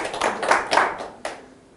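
A church seminar audience gives a short round of applause: a quick burst of close hand claps that thins to a few final claps and fades out within about two seconds.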